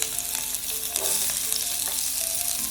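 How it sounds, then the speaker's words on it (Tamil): Onions fry in a little oil in a kadai on low heat, making a constant close crackling sizzle with no talking. "இப்போ ஒரு கடாயை வச்சு கொஞ்சமாக எண்ணெய் ஊற்றிக்கிட்டோம். இதில் வெங்காயம் சிம்மில் வச்சிடணும்."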